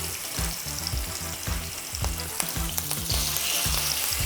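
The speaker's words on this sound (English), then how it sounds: "first thing we want to do is give our chicken a little bit of a browning" Chicken pieces browning in a hot pan for a tagine with preserved lemons sizzle and crackle steadily, with close stirring scrapes and a rhythmic low clatter of the utensil against the pan throughout.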